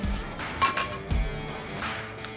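Drinking glasses clink together in a toast, several bright, ringing taps in quick succession up close, followed by a fainter clink near the end.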